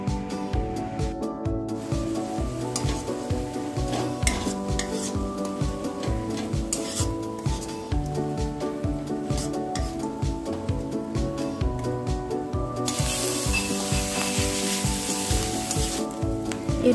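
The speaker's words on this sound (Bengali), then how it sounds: "পুরনো পেঁয়াজ লাল লাল করে ভাজা হয়ে গেলে বেটে রাখা রসুন দিয়ে দিলাম।" Onions fried until reddish sizzle loudly with garlic paste for a dahi katla fish curry, while a spatula scrapes and stirs the pan in a steady repeating rhythm, close and continuous.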